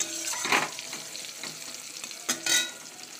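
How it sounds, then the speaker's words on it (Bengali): Pointed gourd (potol) slices frying in a pan with oil, a steady close sizzle broken by a few louder spatters and stirring scrapes. "দেখো পটল ভাজি এখন"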